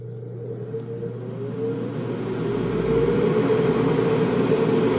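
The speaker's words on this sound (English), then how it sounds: "Let's go ahead and turn on the fan." A waterfall spray booth exhaust fan runs up to speed, a steady whooshing airflow and low motor hum that grows slightly louder and then holds, close and continuous without talk.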